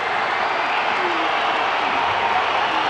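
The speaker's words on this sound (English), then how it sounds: "The crowd is cheering, getting behind their team." Crowd cheering at a rugby match between the Vodacom Bulls and Lions, a dense, continuous roar of many voices that holds steady and loud throughout.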